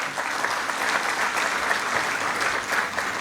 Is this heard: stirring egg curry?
no